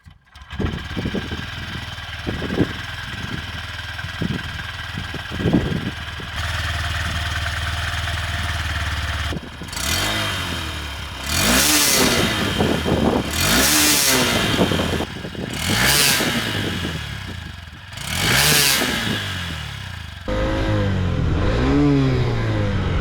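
A Honda CB125F motorcycle with its stock exhaust idles and then revs repeatedly in rising and falling bursts, loud and close, with strong wind noise outdoors.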